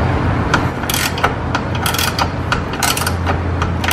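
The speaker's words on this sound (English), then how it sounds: "Whoever invented those ratchet wrenches are bad," A ratchet wrench snugs down a nut during a 2017 Corvette Z06 rebuild, giving rapid bursts of close, loud metallic clicking in several short runs.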